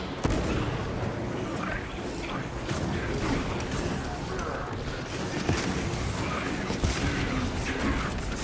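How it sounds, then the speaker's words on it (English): A frag grenade detonates amid continuous Space Marine II combat, with a dense, steady wash of battle noise and mechanical clatter running throughout at a loud, even level. "Frag grenade deployed"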